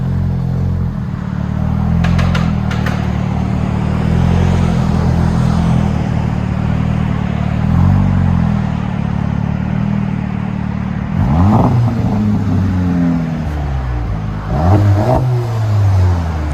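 A 2020 Volkswagen GLI turbo with an MBRP cat-back dual exhaust set up as a straight pipe, rumbling loud and close at a steady idle, then sharply revved twice near the end.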